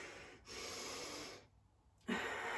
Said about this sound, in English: you inhale through your nose